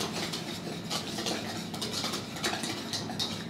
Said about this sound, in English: While mixing I'm going to add 1 teaspoon of vanilla extract.